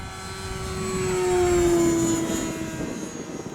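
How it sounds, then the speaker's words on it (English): An E-flite Cherokee low-wing RC plane makes a full-throttle pass, its high electric whine swelling loud as it nears and then easing off as it flies away. "Full throttle pass, let's go."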